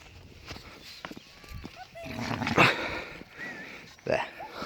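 Dogs out on a countryside walk bark, whimper and pant in short bursts, with footsteps and other scuffling around them and a person's voice mixed in.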